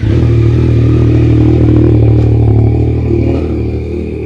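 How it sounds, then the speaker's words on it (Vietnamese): A Yamaha Tracer 9 (MT-09 engine) motorcycle idles loudly and steadily nearby, a deep throbbing rumble with some mechanical clatter, fading slightly at the end. "khi mà anh em nổ máy á, cái tiếng máy nó cũng khá lớn"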